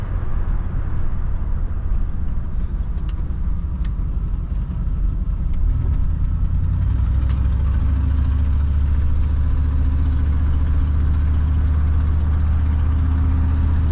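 A 1974 Ford Country Squire station wagon engine idles with a steady low rumble that deepens partway through, loud and close, with a few faint clicks above it.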